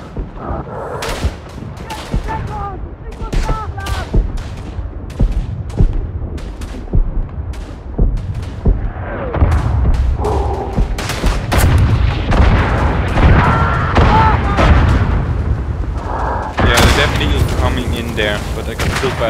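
Battlefield din from the WWI shooter Verdun on the Flanders map, with heavy booms of artillery fire rolling under scattered rifle and machine-gun shots, loud and continuous throughout.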